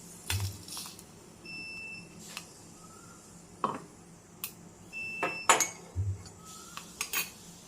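Roasted spices are spooned from a pan into a small mixer-grinder jar, giving a scattered series of light metallic clinks and taps close by in a quiet kitchen.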